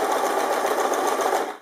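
A sewing machine fitted with a bias binding foot stitches fabric in a fast, even, continuous whir, close and loud, easing off at the very end.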